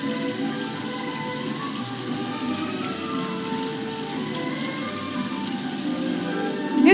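In the video game What Remains of Edith Finch, water runs into a bathtub in a steady, continuous splashing rush that stays even and close throughout.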